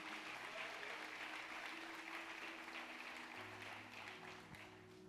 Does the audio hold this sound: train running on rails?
no